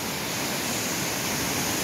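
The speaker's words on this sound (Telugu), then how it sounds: "ఇది వాటర్ ఫాల్ అనమాట, గండహతి వాటర్ ఫాల్స్ చూడండి" Gandahathi waterfall in Gajapathi district, Odisha, pours down in a loud, unbroken roar of falling water that stays steady and close throughout, with no voices.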